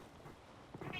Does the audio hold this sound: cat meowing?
yes